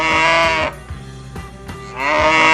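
A cow moos loudly and close, two long drawn-out calls separated by a short quiet gap with faint background knocks, no talking.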